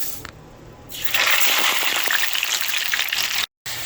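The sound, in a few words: sweet potato fries frying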